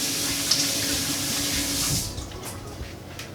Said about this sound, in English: I need to rinse my hands.